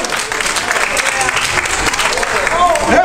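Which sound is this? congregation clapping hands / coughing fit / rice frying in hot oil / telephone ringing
congregation clapping hands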